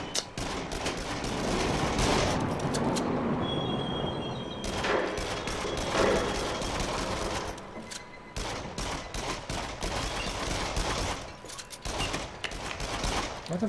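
Rapid gunfire from a carnival-style shooter in the VR game Until Dawn: Rush of Blood, dense bursts of shots running almost continuously with brief pauses, loud and close, with no talking.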